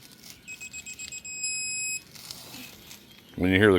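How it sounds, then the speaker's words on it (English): Quick electronic beeps come from a digital torque wrench tightening a tie rod as it nears target torque, first a run of short rapid pulses, then a longer held tone, and a voice starts talking at the end. "When you hear the quick beeps, that means you're getting close."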